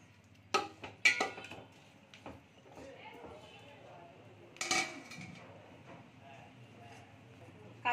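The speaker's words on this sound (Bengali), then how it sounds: "এখানে নাড়া দিয়ে ঢাকা দিয়ে দেব।" Clinks and scrapes of a spoon stirring a covered cooking pot of chicken korma with ginger-garlic paste, followed by a lid being set on; a few sharp metallic knocks stand out over faint background noise.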